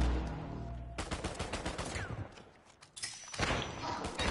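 Gunfire in an Uncharted 4 multiplayer match, a few sharp shots in two bursts separated by a brief lull, moderately loud against game sound.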